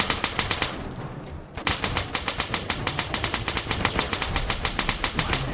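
Rapid automatic gunfire in the video game Fallout New Vegas, long regular bursts of shots with a brief pause near the start, loud and close.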